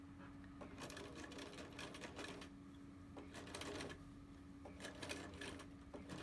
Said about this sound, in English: Zigzagging right along that edge of the fabric.